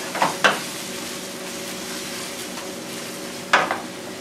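Crushed tomatoes with puree and chopped Italian flat leaf parsley sautéing for eggplant caponata, a soft steady sizzle with a few sharp utensil scrapes and knocks against the pan near the start and end, close and alone.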